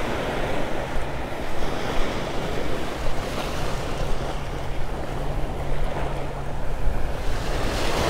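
Surf washing up on Vanderbilt Beach in North Naples, Florida, a steady broadband roar of breaking waves that swells and eases with wind noise across the microphone, with no voices.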